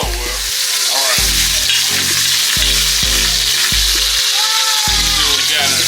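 A beef pot roast sears in an Instant Pot with a loud, dense, continuous sizzle and crackle heard up close, steady from start to finish.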